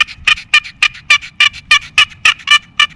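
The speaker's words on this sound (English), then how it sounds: "I grabbed my little turkey call right here and I just started going at it." A hand-held turkey call is worked in a steady run of about ten sharp, evenly spaced yelps, loud and close, each a bright rasping note with a quiet outdoor backdrop.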